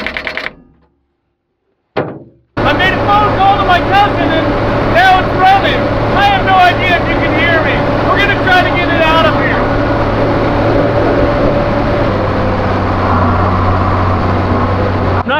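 A frozen tractor engine idles with a steady low rumble after a brief start, running continuously and loud close by while a person talks over it.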